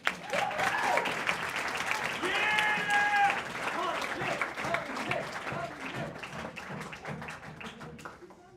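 An audience at an event claps together, a dense burst of applause that swells early and slowly thins out, with a voice briefly heard over it.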